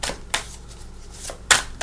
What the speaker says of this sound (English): We're just going to take one more shuffle